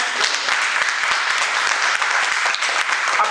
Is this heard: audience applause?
yes